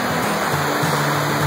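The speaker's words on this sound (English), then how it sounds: "Beautiful water running." Steady broadband rush of running water, loud and close, like a stream or river flowing over rocks, with no voices.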